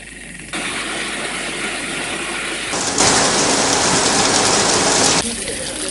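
Heavy rainfall in drought-hit Runugambehera, Suriyawewa, Hambantota, a steady dense downpour that grows louder and heavier partway through, then eases back slightly near the end.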